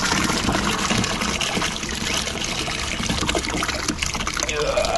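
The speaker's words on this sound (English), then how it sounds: "There's splash. Bits of poo splashing." Waste splashing and trickling into water in a toilet or pit, a steady wet spatter with dribbling and gushing, close and fairly loud throughout, with a person talking over it.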